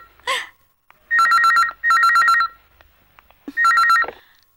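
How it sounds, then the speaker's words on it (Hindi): A telephone bell in a Hindi-dubbed Bollywood film scene rings in three loud, close bursts with short pauses between them, preceded by a brief faint sound. "Bharat, phone for you."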